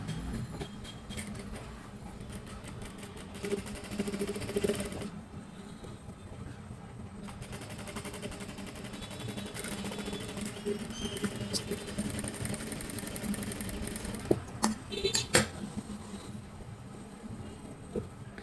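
A sewing machine stitches a dart on a blouse with a steady whirring, clattering needle rhythm in runs, pausing briefly between passes, with a few sharper knocks near the end.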